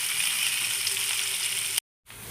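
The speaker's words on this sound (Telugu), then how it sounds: "ఉల్లిపాయలు పచ్చివాసన పోయేంత వరకు వేయించుకోవాలి" Onions frying steadily in a pan until their raw smell cooks off, a dense close sizzle that runs unbroken and then cuts to a brief silence before resuming.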